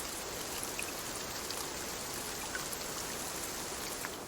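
Steady rain falls in the gardening game Cloud Gardens, a dense, even hiss of drops spread across the whole clip with no voices over it.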